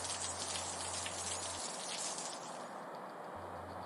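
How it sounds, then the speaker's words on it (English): Steady rain falls in a New England winter at a beaver pond, knocking down snow, an even patter and hiss with a low hum present in parts. "Rain knocks down much of the snow."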